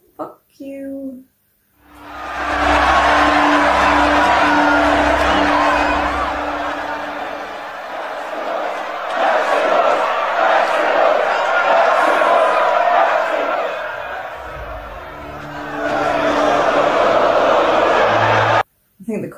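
A large arena crowd from the film Gladiator roars and cheers in a sustained, swelling wave that rises after a quiet start, then briefly ebbs before surging again.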